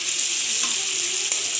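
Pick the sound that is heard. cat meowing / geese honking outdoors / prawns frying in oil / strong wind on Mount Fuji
prawns frying in oil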